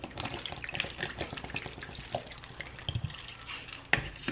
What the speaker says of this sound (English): Add the rest of the water.